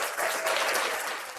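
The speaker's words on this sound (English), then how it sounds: "Let's do the big applause" Loud, dense applause from a live comedy show audience, a steady wash of many hands clapping that swells quickly and holds before tapering slightly, with no talk over it.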